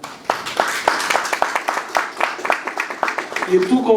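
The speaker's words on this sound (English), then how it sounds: "You deserve a very round of applause" An audience at the official launch of the European Union–East African Community MARKUP II programme breaks into brisk, close applause, sharp individual claps in a quick uneven rhythm, with a voice briefly heard at the end.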